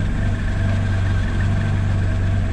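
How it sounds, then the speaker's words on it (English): A restored 1948 Willys MB jeep's four-cylinder engine idles close by, a steady low rumbling purr with an even rhythm and no other sounds. "Let you listen to the engine."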